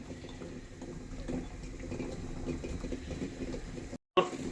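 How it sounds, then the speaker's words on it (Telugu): Eggs boiling in a pot of water on a stove, giving a steady bubbling, rumbling wash close by, with a brief gap near the end followed by a sharper clink. "సో బాయిల్ అవుతున్న టైంలో మనం స్పూన్తో అటు ఇటు ఇలా తిప్పుకుంటే కొంచెం బెటర్"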